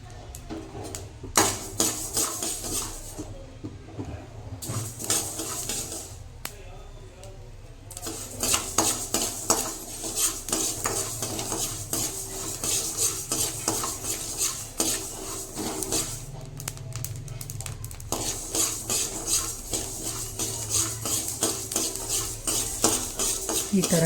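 A pan of roasting mixture for harallittina unde sweets is stirred and shaken with a cloth-held handle, giving continuous close scraping and clattering of metal utensils against the pan with faint sizzling underneath.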